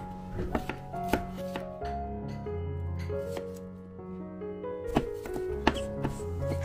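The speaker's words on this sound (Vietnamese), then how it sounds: "Về phần ớt chuông cũng như là hành tây thì mình sẽ cắt thành những cái khối vuông khoảng chừng 2cm" Sharp knife chops through bell pepper and onion on a cutting board, a few quick bursts scattered through the clip, with steady background music underneath.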